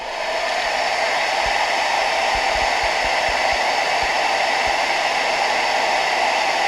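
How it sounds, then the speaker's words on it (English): A hair dryer blows steadily over a hand-painted surface, a loud, continuous broadband whoosh that holds unchanged throughout with no voices. "we're going to take our hair dryer and we're just going to dry this surface."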